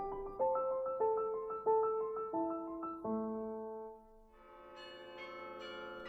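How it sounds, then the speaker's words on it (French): The Peace Tower carillon of 53 bells rings a slow melody of clear, sustained struck tones, one note after another, followed by a fuller ringing chord that decays, with no talking. "La tour abrite un carillon comprenant 53 cloches."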